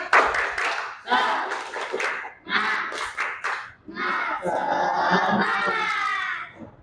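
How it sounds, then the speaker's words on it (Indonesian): A school class performs a tepuk semangat spirit clap chant, with children shouting in rhythmic bursts and clapping together. Loud, close group voices come in short pulses, then a longer sustained shout near the end. "Coba tepuk semangat."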